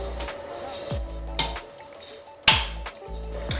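A greased, flour-coated pound cake pan is tapped by hand, giving a handful of close, sharp knocks at irregular intervals over a low hum.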